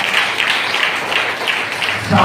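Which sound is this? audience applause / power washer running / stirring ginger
audience applause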